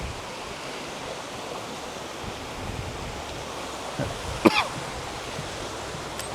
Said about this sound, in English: Some nice waterfall.